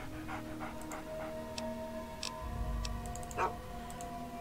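Panting from the dog companion in the Fallout 3 video game: steady, quick breaths mixed with soft ticking and clicking game sounds over a continuous low background hum, with no one talking.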